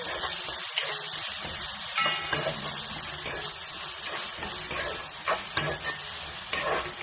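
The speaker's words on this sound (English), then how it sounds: "Jeera is cracking now, so I'm going to add onions. Mix it well." Sliced onions hit hot oil with crackling cumin seeds in a pan over medium heat, giving a dense, loud, close sizzle with a spoon stirring and scraping through it and no talking.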